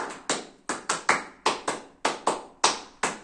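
A group of young Hizbul Wathan scouts claps out their patterned unit clap together, about a dozen sharp, crisp hand claps in a syncopated rhythm of pairs and single beats, close and clear with no voices.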